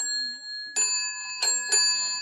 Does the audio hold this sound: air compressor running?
no